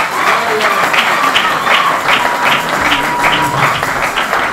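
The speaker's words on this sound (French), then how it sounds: "J'aimerais qu'on l'acclame pendant qu'elle monte." A church congregation at a Pentecost service claps and applauds steadily for a singer walking up, a sustained rhythmic wash of many hands, fairly loud and close.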